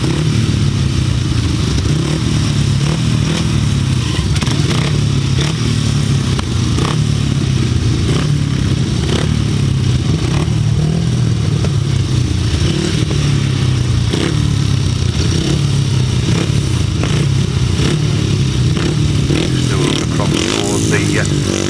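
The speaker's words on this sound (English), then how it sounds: "Starting gate. Into action. Then the bike to start to rev up." Grasstrack motorcycles rev loudly at the starting gate during a race meeting at Bewdley, a steady engine roar with the odd rising rev, and an announcer's voice runs over it.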